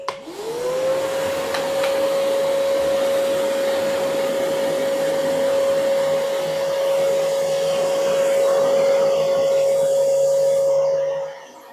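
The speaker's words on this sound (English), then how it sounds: "Now it's blowing air. You can go ahead and blow this all out and away from my workspace." Craftsman 6 gallon wet/dry shop vacuum blowing air, a loud steady whooshing roar with a constant motor whine that spins up at the start and cuts off at the end, no talk.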